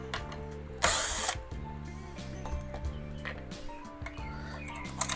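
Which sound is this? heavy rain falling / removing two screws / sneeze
removing two screws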